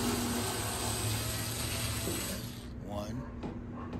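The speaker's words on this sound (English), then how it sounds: "we have 1, 2, 3 screws that need to be removed" A ratchet turns out screws on the rear panel of a Kenmore Elite dryer, giving close, steady mechanical clicking over a busy background, with a short fainter stretch near the end.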